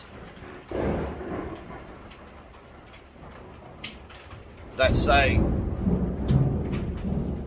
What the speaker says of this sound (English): sorry, the thunder and lightning.